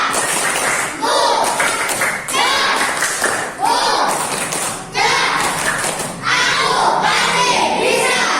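Schoolchildren in a classroom perform the math clap chant, bursts of rhythmic group clapping and thumps alternating with shouted chanting voices, loud and close, repeating in several rounds.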